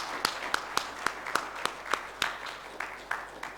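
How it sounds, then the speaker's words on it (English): An audience at a conference plenary gives a round of applause for speakers leaving the stage: sparse, fairly steady claps ring out at a moderate distance, sounding like a modest group rather than a full house. "I'd like you to usher our speakers off the stage with a round of applause"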